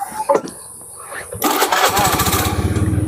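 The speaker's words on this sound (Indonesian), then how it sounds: "Kita mau jalan-jalan naik motor." A motorcycle engine is started for a ride: after brief clicks and a short voice, it catches abruptly and settles into a loud, close, throbbing idle.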